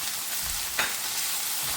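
Carrots and potatoes frying in a pan for a Karnataka-style palya, a steady broadband sizzle with a single brief clink of a utensil midway.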